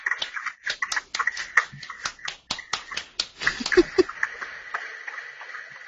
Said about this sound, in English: Let's give a round of applause for Ben Miller, everybody.